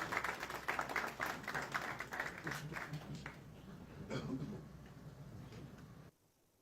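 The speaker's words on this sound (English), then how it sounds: "Ladies and gentlemen, please a round of applause for our panelists." Audience applause for panelists at a public-services policy panel discussion, a dense round of clapping with crowd noise that fades slightly over about six seconds before cutting off abruptly.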